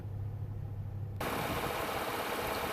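The 3.6-liter V6 in a 2018 Chevy Colorado Z71 crew cab 4x4 hums at a steady idle, with the sound opening up and growing brighter partway through, no talking.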